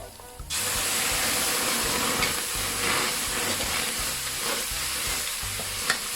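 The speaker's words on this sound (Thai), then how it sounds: "ผัดหัวกุ้งกับเปลือกกุ้งเนี่ยให้เขาหอมเลยนะคะ" Shrimp heads and shells stir-fry in a hot pan, with a loud continuous sizzle and hiss and rhythmic scraping strokes of the stirring utensil throughout, with no voices.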